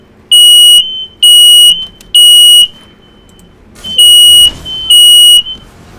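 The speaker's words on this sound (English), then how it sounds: "That's the fire alarm." A home smoke alarm shrills in five loud, evenly spaced bursts of high electronic tone, set off by dinner cooking in the kitchen, with short gaps of quiet room noise between them.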